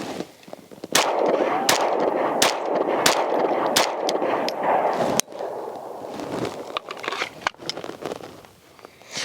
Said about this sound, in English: now we're gonna shoot a 5-round group from 5 yards out with the Nighthawk TRS comp